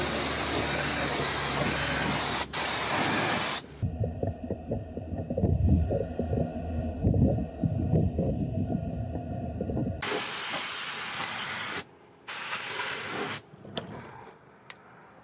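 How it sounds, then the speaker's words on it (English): A pneumatic spray gun hisses in long steady bursts, spraying chassis paint under a Ford F-350 truck, stopping and starting, with a stretch of clattering work noise between sprays. "We're actually gonna be spraying it up underneath the truck to beautify the underneath side of this thing."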